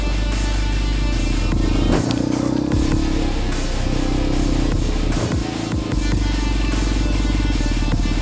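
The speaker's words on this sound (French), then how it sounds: "Ah, le moteur tourne bien, il tourne bien rond." Close, loud running of a Yamaha Virago 125 motorcycle engine, an even rumbling beat that lifts briefly with a few revs and clattery mechanical ticks.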